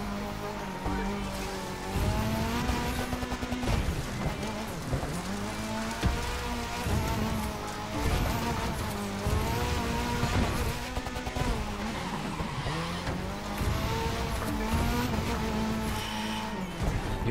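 A car races through The Crew 2 with a loud engine whose pitch rises and falls with gear shifts, braking dips and road noise throughout, a steady wash like rain behind it.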